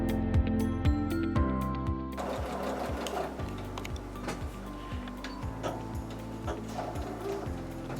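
A sewing machine stitches across a quilt seam with a steady, fast mechanical ticking that runs close and loud throughout, with no talk over it.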